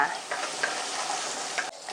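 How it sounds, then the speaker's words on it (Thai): Steady loud sizzling of chopped garlic frying in hot vegetable oil in a wok, with scraping as it is stirred around the pan. "ผัดกระเทียมให้หอมค่ะ"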